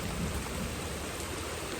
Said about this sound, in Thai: ที่นี่ฝนตกหนักมาก ตกหนักจริง ๆ